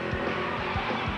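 Race car tires squeal in the Grand Tour Racing video game, heard as brief repeated skids over a steady engine drone, with no talk.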